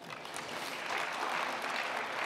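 Audience clapping at a book talk, a brief moderate burst of many hands that swells slightly and holds steady, heard at some distance.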